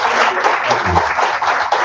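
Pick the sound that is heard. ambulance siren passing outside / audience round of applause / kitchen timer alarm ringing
audience round of applause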